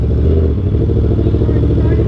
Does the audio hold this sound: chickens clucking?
no